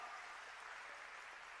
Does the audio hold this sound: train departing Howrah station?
no